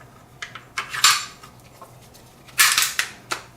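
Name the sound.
Beretta M9A3 9mm pistol slide slid back onto frame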